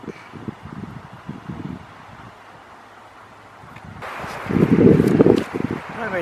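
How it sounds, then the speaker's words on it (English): Strong wind blows at Sitka, Alaska, buffeting the microphone in uneven gusts that swell into a loud roaring burst near the end, heard up close with no one speaking. "the wind is really kicking up"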